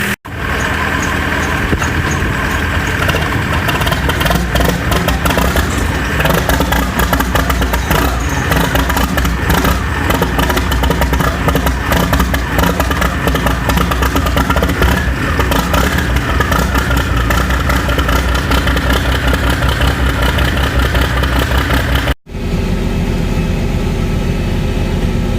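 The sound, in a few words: old 4430 tractor engine running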